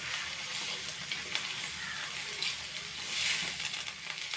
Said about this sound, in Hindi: प्याज हम नरम होने तक इसे पका लेंगे।